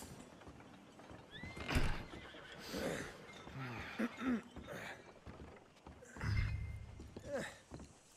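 A horse in Red Dead Redemption 2 whinnies in several loud bursts, with hooves clopping and thumping between them, the calls spread across the stretch with no talk.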